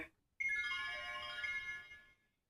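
A short electronic chime melody plays from a 2009 VTech V.Baby Infant Development System baby toy after a brief button click, bright and tinkly, fading out after about two seconds.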